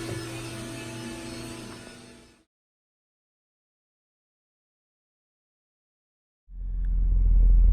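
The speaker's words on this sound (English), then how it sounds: "I'm just in the car warming it up" A car idles while warming up, giving a steady low hum that cuts off into silence, then returns as a louder, deeper rumble.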